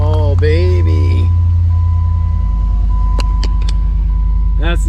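A Jeep Commander engine cranks and starts, then settles into a loud, steady low idle rumble close by, with a couple of brief high clicks or squeaks near the end.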